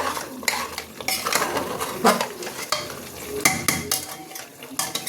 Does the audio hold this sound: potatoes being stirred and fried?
yes